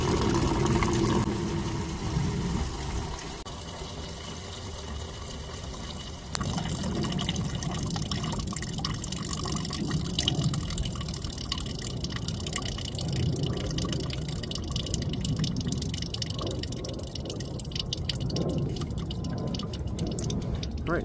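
Coolant drains out of a Chevy Cobalt's radiator with the overflow tank cap removed, making a steady liquid trickle and splash. It continues for about twenty seconds under a low background rumble.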